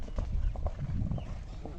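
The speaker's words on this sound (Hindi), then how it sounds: "चलने दे घोड़ी को कैंटर पे" A mare canters during show jumping training, her hooves drumming in a quick, steady clip-clop close by over a rumbling background, with no talk.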